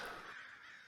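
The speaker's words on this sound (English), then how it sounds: "See the crows up there watching from the power lines." Crows cawing from power lines as an ambient effect in a Call of Cthulhu session, one harsh, faint caw that trails off.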